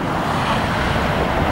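Broad, steady ocean surf along the Tenerife coast among palms and mountains, a continuous close wash with wind buffeting the microphone and no voices.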